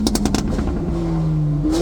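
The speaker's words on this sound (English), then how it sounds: "Now you have to give us a rev." A car engine at a car meet revs in a few quick blips, then holds a steady rising drone for about a second before easing off, loud and close by.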